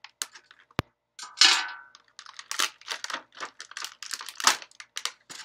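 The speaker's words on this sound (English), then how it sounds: "I got some scissors. I'm going to cut them out here" Scissors snip through plastic packaging to free small Batman and Catwoman figures from a DC collectors box, giving a run of close, crisp cuts and crinkles with one sharp click early on.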